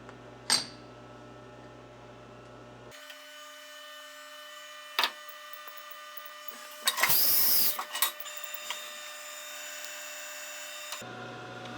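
A CNC milling machine works steel ramrod scraper blanks, with a steady mechanical whine, sharp clicks and a loud burst of cutting noise midway, heard alone without talk.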